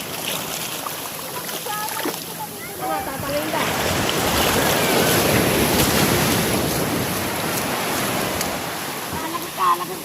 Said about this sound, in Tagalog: O, umataw ka sa alon, Miko.